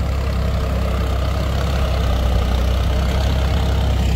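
A Swaraj 744 XT 4x4 tractor engine runs steadily with a loud, close, low diesel rumble and constant drone throughout, no pauses, with RPM drop noted on this new 2024 model.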